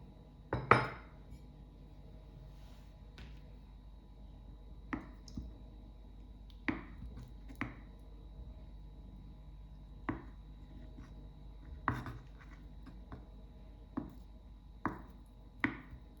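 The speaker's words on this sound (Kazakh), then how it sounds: "Одан соң жұмыртқаны біз кубик қып тураймыз." A knife cuts boiled egg into cubes on a cutting board for a tuna salad, giving about a dozen sharp, separate taps at an uneven, unhurried rhythm. The taps sound close and moderately loud over a quiet kitchen.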